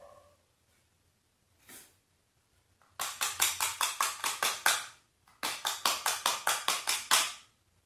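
Rapid light tapping on a small matchbox, two bursts of about a dozen quick crisp taps each, close and fairly loud, preceded by a single soft tap and near silence.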